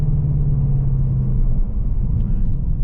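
A 2024 Ford Mustang GT engine heard from inside while driving, a steady, loud low rumble with a droning tone and no sharp revs, the automatic shifting left to itself.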